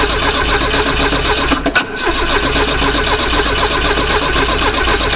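A VW Gol Turbo engine cranking on its starter motor during an oil change, a dense continuous churning drone that briefly dips and stutters midway before carrying on steadily.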